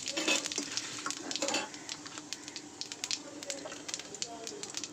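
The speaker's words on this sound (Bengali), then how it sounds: "তো আমি এখানে কড়াইতে তেল দিয়ে দিয়েছি, তেলটা গরম হয়ে গেছে। এখানে দিয়ে দেবো গোটা সাদা জিরে ফোড়ন" Whole white cumin seeds sizzle in hot oil in a wok, a sharp crackling spatter that is loudest at first and then settles into fainter intermittent popping, with a voice talking over it.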